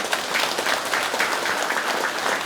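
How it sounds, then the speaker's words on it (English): An audience at a spiritual gathering claps in a brief, dense burst of close, continuous applause. "You like to clap, huh?"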